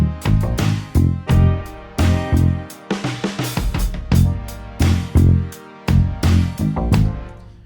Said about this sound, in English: So that's the beat for Spitfire